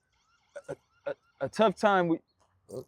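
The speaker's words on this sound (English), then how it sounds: "That's my alarm." An alarm going off indoors, heard as short bursts of tones between stretches of conversational speech nearby.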